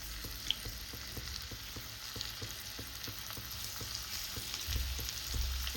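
Cornflour-coated shrimp frying in butter in a hot wok, a continuous crackling sizzle with faint regular ticking pops, steady and close with no voices.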